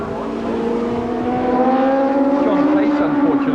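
Racing motorcycles howl around the banked track at Adelaide Raceway during a 1980 Swan Series heat, engine tones rising and falling as bikes pass, with a commentator talking over the steady roar.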